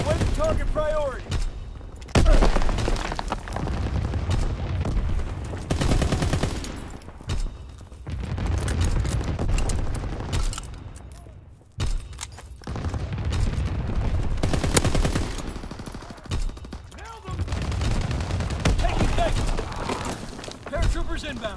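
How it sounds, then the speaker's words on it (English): Anti-aircraft gunfire bursts in a World War II video game with V2 rockets and paratroopers, sustained rattling fusillades that come and go in waves with short gaps, mixed with game voice lines and other battle noise. "Anti-aircraft burst has commenced."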